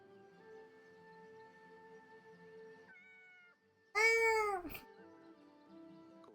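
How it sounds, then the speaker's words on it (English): A single loud, drawn-out meow rises over quiet background game music, then the music continues alone. "Pet the cat!"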